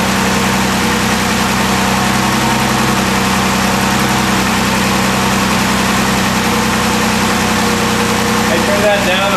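A tri-carb SU-equipped Austin Healey engine idles steadily with a constant low mechanical rumble and hum, close and continuous throughout, with no voices over it.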